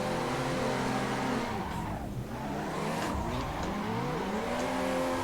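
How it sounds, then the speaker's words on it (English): In the Assetto Corsa video game, a drifting street car's engine revs up and down through repeated throttle swings, with tire squeal and skidding noise over a continuous loud engine drone and no talking. "So far it sounds really nice and it's driving just fine."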